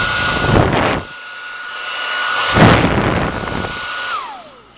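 Andis Hang-Up Ionic 1600-watt wall-mounted hair dryer running on its second setting, a loud steady rushing blow of air with a whining motor tone, close by, surging with handling bumps and winding down at the end.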